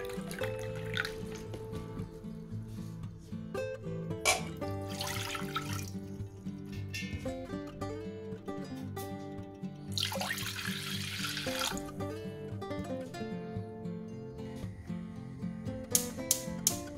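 Water and vinegar pour into a large cooking pot, a continuous trickling and splashing stream with brief louder gushes, heard over faint background music.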